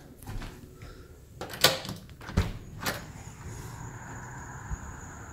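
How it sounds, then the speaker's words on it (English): A door at a house entrance opening and closing as someone arrives, a few sharp clunks and knocks close by over a quiet room background, with no talking. "Oh, somebody's at the door."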